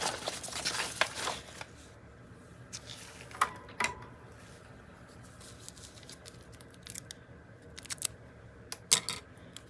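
Scissors snip off the corner of a paper book page, a few short quiet cuts with light crinkling of paper, close and soft, without talk.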